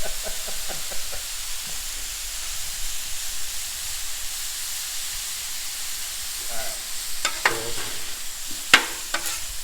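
Ground beef sizzling on a Blackstone flat-top griddle, a steady hiss of frying throughout, then a few scraping and clattering spatula strokes toward the end.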